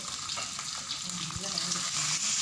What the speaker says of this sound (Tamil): நம்ம க்ளீன் பண்ணி வச்ச நெத்திலி கருவாடை எண்ணெயில் போட்டு வறுக்கணும்